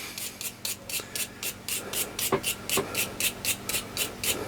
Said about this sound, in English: And this is a steel bristle. It's soft steel. It's not brass. I want it to scrape off any tarnish that's on there.